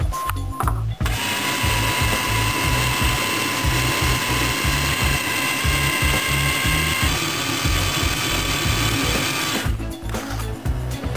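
A loud, steady mechanical whirring and rattling of a motorized grinder milling viburnum berries with sugar runs for about nine seconds, with rhythmic knocking underneath, then stops abruptly.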